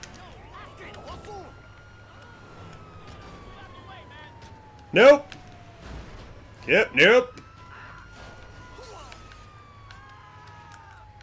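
An ambulance siren in the video game GTA 5 Online sounds as one long, faint, slowly falling wail that runs under brief speech and a few sharp, loud bangs.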